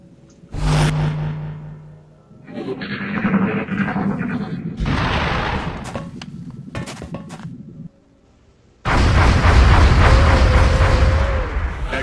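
Grenade blasts and weapon fire from the turn-based strategy game XCOM: Enemy Unknown, with a loud boom early on, a stretch of rumbling explosive bursts, then a sustained roaring burst toward the end.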